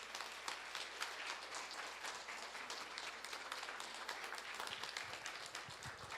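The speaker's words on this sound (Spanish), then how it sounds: "Un aplauso, por favor." Applause from a modest crowd at a guided wine-tasting workshop rolls on steadily, a dense wash of clapping heard from some distance and fairly quiet overall.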